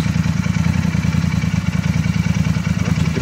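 A classic motorcycle engine idles with a baffled, wadded peashooter exhaust, a close, steady, rapid low thumping pulse without revving and with no talk over it.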